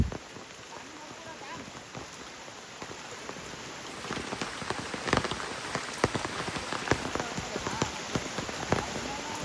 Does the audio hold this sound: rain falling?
yes